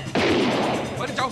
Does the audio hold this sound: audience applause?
no